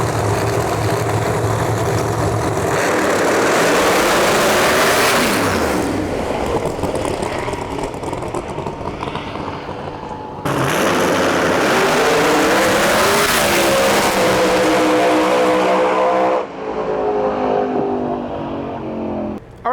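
A Pro Mod drag race car rumbles close and loud at a drag strip, engine surging and revving in waves with sharp throttle blips and rising pitch sweeps, then settling into a lumpy idle.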